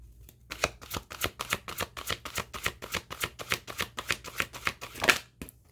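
Rapid, rhythmic riffle shuffling of an oracle divination card deck, close and crisp, about twenty evenly spaced flicks in a row with a slightly louder burst near the end.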